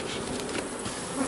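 Honey bees buzz densely around a hive box holding a split, a close, continuous loud drone with no voices.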